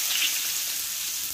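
Garlic sautéing in hot oil beside green beans, a dense, even sizzle that holds steady and close for the whole short stretch with no voice.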